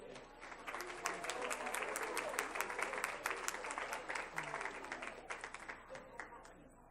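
A room at a school district board meeting breaks into a round of applause. The clapping is dense and sustained, with faint voices mixed in.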